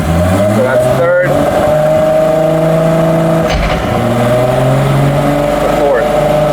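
A Nissan GT-R engine pulls loud and close under acceleration as it shifts from third to fourth gear without the clutch. A droning, rising tone breaks off briefly at each shift, around the first and third seconds, then climbs again.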